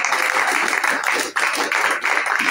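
A congregation applauds during a church service, a loud, dense clapping that swells in rhythmic waves with brief dips, and voices are mixed faintly into the crowd noise.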